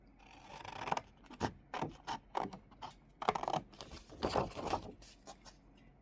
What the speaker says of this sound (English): So get my scissors, if I can find them on my really messy desk